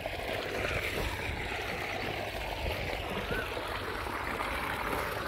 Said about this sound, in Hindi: अरे ट्यूबवेल चल गया है